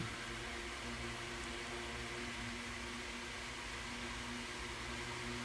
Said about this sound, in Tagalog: Igisa lang natin yung bawang.